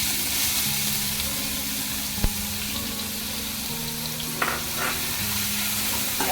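Chopped onion fries in two spoons of hot oil with cumin seeds, giving a close, continuous sizzle with occasional sharp clinks and scraping stirs from a spoon against the pan.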